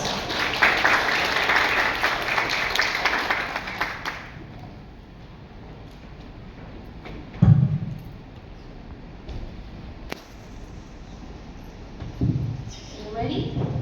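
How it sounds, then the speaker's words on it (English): Audience applause at an English speaking contest in Thailand, a burst of clapping over the first four seconds that fades out, followed by quieter room sounds and brief voices. "Applause."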